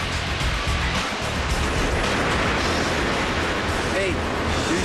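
Ocean surf washes onto a beach in a steady roaring rush of waves close by, with a voice speaking over it.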